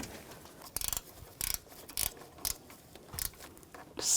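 Ratchet tightening radiator fan motor bolts on a 2010-2014 Volkswagen GTI 2.0L L4, giving quick bursts of clicking strokes at a steady rhythm, close by in a quiet setting.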